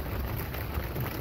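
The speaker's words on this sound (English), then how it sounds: "of course it started raining" Steady rain falls outdoors during a Subaru alternator replacement, a continuous broadband hiss of drops with a soft low rumble beneath, fairly loud and even throughout with no talking.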